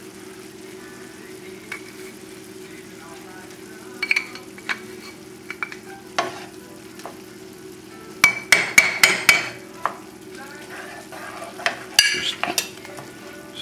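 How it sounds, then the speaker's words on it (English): Sausage, whole wheat pasta, basil and vegetables are stirred in a pan with a low frying hiss beneath, broken by clusters of sharp utensil clacks and scrapes against the metal, loudest in quick bursts midway and near the end; one brief word is spoken. "stir this up a little bit more than I had last time to put on the plate"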